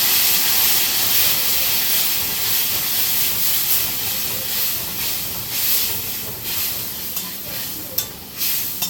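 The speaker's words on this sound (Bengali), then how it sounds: "এখন মোটামুটি হয়ে গেছে, এখন আমি একটু জল দেবো।" Egg curry sizzles and steams in a hot pan after water is added, giving a loud, steady hiss with faint stirring clicks near the end.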